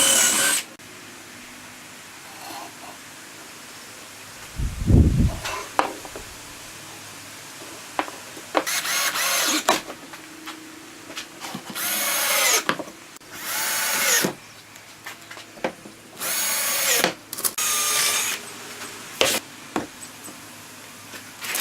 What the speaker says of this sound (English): put these screws in a few, and kind of mostly screw it together as I go down